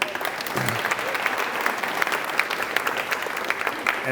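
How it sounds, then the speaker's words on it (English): Audience applause fills a business luncheon crowd, a dense steady clatter of many hands clapping throughout at close range, with no talk over it. "you can give her a round of applause"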